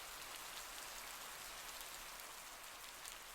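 Steady rain falling on a tent, a soft, even hiss with scattered drop patter running unbroken throughout, no voices.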